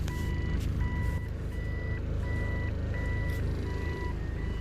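A search and rescue truck sounds its reversing alarm, a steady series of evenly spaced electronic beeps over a low, rumbling engine idle, with no talk.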